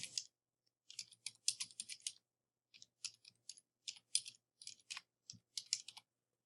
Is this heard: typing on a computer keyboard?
yes